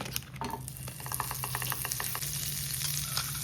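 A piece of butter sizzles and crackles steadily in a hot frying pan, a fine continuous hiss with small pops and a spoon stirring now and then, fairly quiet and close.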